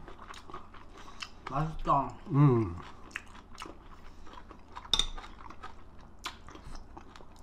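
Fresh raw sea cucumber being chewed up close, with a few soft crunchy bites and wet chewing amid quiet table sounds, while a voice speaks briefly.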